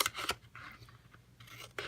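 Scissors snip diagonally into paper pieces for a Valentine's Day box, with two or three quick, close cuts and faint rustling between them.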